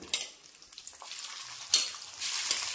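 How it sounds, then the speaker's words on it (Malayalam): Chicken pieces fry in a pan for chicken kondattam, giving a steady close sizzle and hiss that swells loudly near the end, with a few soft clinks of the utensil and no talking. "അപ്പം ഇതേ രീതിയിൽ ബാക്കിയുള്ളത് നമുക്കിങ്ങനെ വറുത്തെടുക്കാം."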